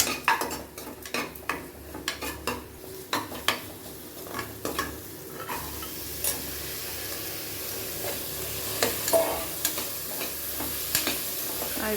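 Vegetables with ginger and garlic sautéing in a pan, a soft steady sizzle under repeated close scrapes and clinks of a spoon stirring against the metal.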